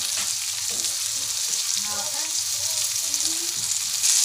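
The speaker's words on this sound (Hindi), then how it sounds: "चांगल्या प्रकारे फ्राय होत आहेत। एका साईडून परतून घेतलेले आहेत" Bombay duck fish fry in hot oil in a pan at home, a loud continuous close sizzle and crackle with no voices over it.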